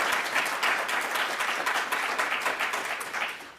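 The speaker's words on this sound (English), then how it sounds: "let's do one more round of applause" An audience gives a round of applause at a University of Wisconsin–Madison School of Education distinguished alumni event, a dense, steady clapping heard at moderate volume that gradually tapers.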